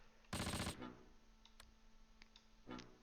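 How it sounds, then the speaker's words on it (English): Flak gunfire in the WWII strategy game Close Combat Last Stand Arnhem: a loud dense burst of rapid shots lasting about half a second, a few faint clicks, then a second shorter burst near the end. "We're getting shot at by the flak."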